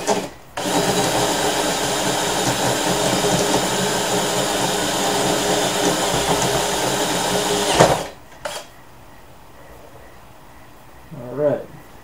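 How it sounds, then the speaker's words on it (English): A power drill whirs loudly and steadily for about seven seconds while drilling out part of an aluminum radiator, then stops abruptly, leaving quiet with a brief voice near the end. "So we're just going to go ahead and drill that out to start with."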